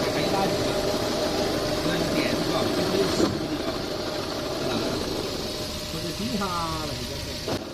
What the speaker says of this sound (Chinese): 大概率呢是变速箱里面的轴承响